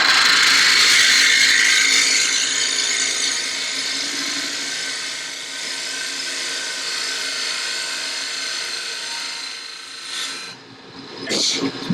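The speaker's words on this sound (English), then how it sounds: "You can actually get a bevel ribbon cut across the bottom with this gouge, which is nice." Wood lathe with a gouge cutting a turned lidded box, giving a steady loud hissing, scraping shear that eases slightly midway and ends with a few brief rougher bursts, no talk.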